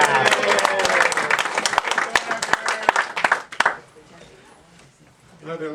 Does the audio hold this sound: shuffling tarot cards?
no